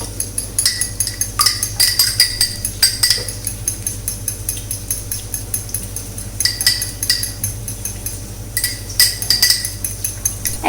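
Beaten eggs with a pinch of salt being mixed in a bowl: steady, rapid clinking and scraping of a utensil against the dish, with brighter metallic chinks recurring throughout, close and continuous over a low background hum.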